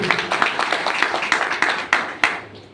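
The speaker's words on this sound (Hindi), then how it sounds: "एक बार जोरदार ताली बजाइए" Seminar audience in Ahmedabad clapping together in a steady, fairly loud burst of individual hand claps with a few sharper accents, no voices over it.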